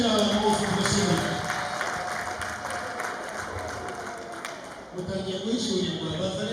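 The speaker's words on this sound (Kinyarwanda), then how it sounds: "Tukomere amashyi dushimira abantu bose dushimira." Applause at a wedding celebration: a crowd claps steadily throughout, with voices and singing over and under it, dipping briefly before picking up again.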